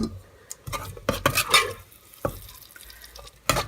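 Onion masala for lobia is stirred while frying in oil on a high flame, with sharp scrapes and clinks of the spoon against the pan over a steady sizzle, coming in several close, loud bursts.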